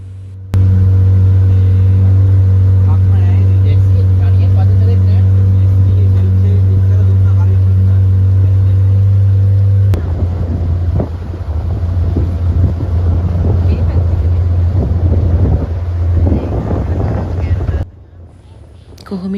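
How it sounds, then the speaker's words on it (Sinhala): A small motorboat on a lake at Gregory Park, Nuwara Eliya, gives a loud, steady engine drone for about ten seconds. Buffeting wind noise and splashy rumble follow before the sound cuts off near the end. "කොහොම හරි මේ බෝට් රයිඩ් එක විනාඩි 20ක් වගේ තිබුණා"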